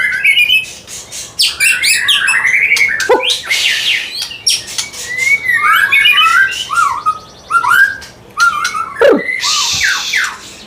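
A murai forest songbird in a bird shop sings loud, varied phrases of rich whistles, chirps and harsh squawks in quick bursts nearby, with a dog barking among the calls.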